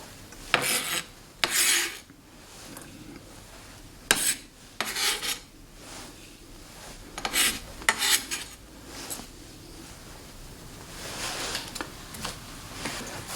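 A knife cuts down through a scored onion on a cutting board while an omelet is being prepped, producing bursts of close, crisp slicing and rasping strokes separated by quieter pauses, with no talking.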